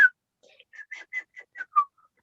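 A person attempts to whistle a tune from The Bridge on the River Kwai, producing a short series of breathy, wavering whistled notes that are thin and uneven.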